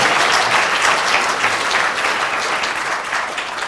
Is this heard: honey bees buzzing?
no